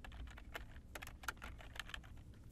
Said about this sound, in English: I'm hitting the S key on my keyboard